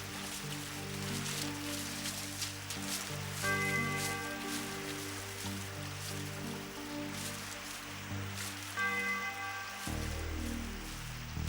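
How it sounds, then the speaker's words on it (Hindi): Heavy rain in a cartoon storm, a steady wash of falling water under a sustained musical score with low drones and brief higher notes. "तुम जानते हो मुझे बारिश पसंद नहीं।"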